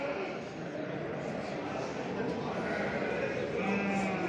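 Sheep and lambs bleat steadily at a busy small-livestock market in Çorum, Turkey, their calls running under a dense layer of people talking nearby.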